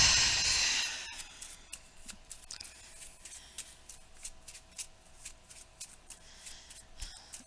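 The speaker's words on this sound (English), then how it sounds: "Just shuffle your deck. And I'm going to shuffle my deck." A deck of game cards riffle-shuffled on a tabletop, a loud initial cascade followed by a run of crisp, rhythmic snaps and flicks, close and alone without talk.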